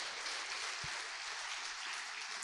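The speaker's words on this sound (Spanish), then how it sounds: "Dele un aplauso al Señor, pues." Steady broadband applause from a church congregation during a Sunday morning service, a continuous wash of clapping filling the room at moderate level with no voices over it.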